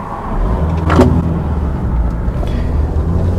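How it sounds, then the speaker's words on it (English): A VW Beetle convertible with cracked springs drives along, giving a steady close road and engine rumble inside the cabin, with a brief louder rattling knock about a second in. "Those cracked springs don't half make a racket."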